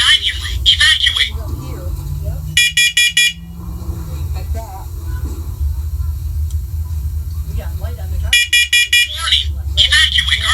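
A First Alert Onelink smoke alarm under test gives loud, rapid high-pitched beep bursts at the start and again near the end, with a synthetic voice announcement between them and a low hum underneath.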